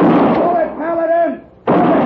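Rifle shots in an old Western radio drama: two sharp, loud cracks bracket a brief stretch of raised, tonal voice, the second shot hitting abruptly after a short near-silent gap.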